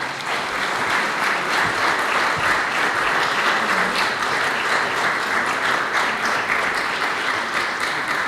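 Steady, dense audience applause at a civic reception honouring the most successful citizens of Užice, continuous clapping from a large crowd with no voices over it.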